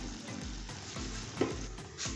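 A pot of sauce simmers and sizzles steadily on reduced heat, a soft continuous bubbling hiss with faint stirring scrapes, close and alone with no talk.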